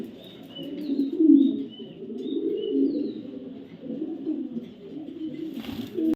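Racer pigeons, including a female racer, coo steadily and close by, several birds overlapping in a continuous low, throaty murmur with no talking.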